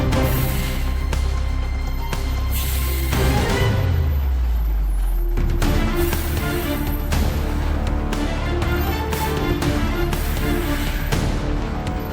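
A MAN X3000 heavy haul truck squeezing around a tight mountain curve gives a loud, steady engine drone close by, with bursts of hissing air release over the rumble.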